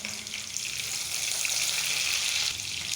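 A steady, close sizzle of chana dal, urad dal and cashews frying in hot oil, crackling evenly and quietly for a few seconds with no voices.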